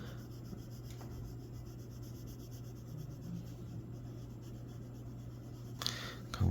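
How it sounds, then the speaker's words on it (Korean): A pen colors along the edges of a sheet of paper, giving a steady soft scratching and rubbing that runs close and continuous, with a low hum underneath and a brief louder rustle near the end. "여기 테두리 쪽은 어느 정도 조금 색깔을 칠해 주실 거예요"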